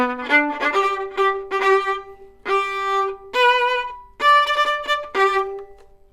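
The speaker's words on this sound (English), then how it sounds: "a fanfare is a short piece of music that people used to play in the olden times" A brass instrument plays an improvised fanfare of short bright notes and held tones, clear and close with no other sound.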